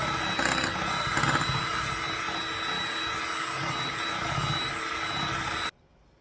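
An electric mixer beats thick Japanese mini waffle batter in a bowl, giving a steady high motor whine with some rattle that runs almost unbroken before cutting off abruptly near the end.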